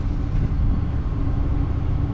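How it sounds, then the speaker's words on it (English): A truck with a P0174 lean code and P0191 fuel pressure fault idles steadily after starting, a low, even engine rumble close by with no voices over it. "It's idling for now."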